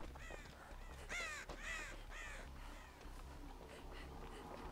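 Ravens in the Dead by Daylight video game give a burst of several harsh caws in quick succession, then fainter calls trail off over a low ambient game drone.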